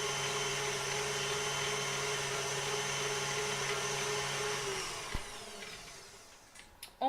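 A food processor churns sablé dough with hazelnut powder in a steady, loud motor whir for about five seconds, then spins down and stops with a few small knocks.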